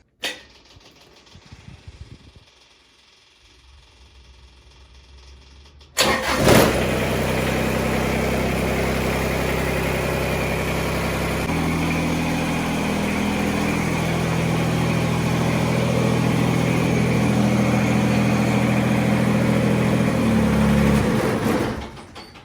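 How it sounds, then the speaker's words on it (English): After a few quiet seconds, a Kubota BX tractor engine cranks and starts, then settles into a loud, steady idle that keeps running. "I'm going to warm up the tractor"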